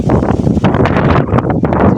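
Strong wind before a storm buffets the microphone in loud, rough gusts, a dense rumbling rush that surges and dips over a couple of seconds.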